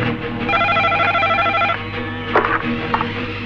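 A telephone rings in a home in a Bangla film scene, a bright repeating electronic ring pattern for about a second and a half. It then fades into quieter room sound with a couple of brief knocks.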